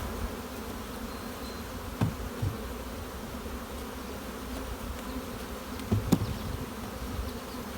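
A honeybee colony buzzes inside its hive box, a soft steady hum with a few brief louder thumps and rustles near the start and end, no talking.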